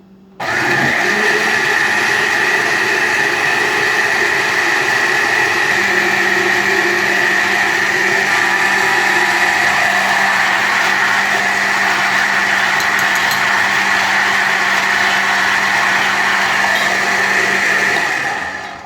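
An electric blender whirring steadily as it blends guava juice with milk, starting abruptly and running loud and constant for most of the clip before cutting off at the end.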